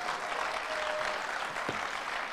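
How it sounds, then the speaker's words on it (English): Audience at a youth entrepreneurship expo gives the panel a round of applause: fairly faint, steady clapping from a room, with a brief low thump near the end. "Can we give our panel just a round of applause once more?"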